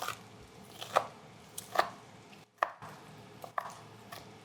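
A knife chops onion into small cubes on a board with about five distinct sharp chops at an uneven, unhurried pace, close and alone against a quiet kitchen background.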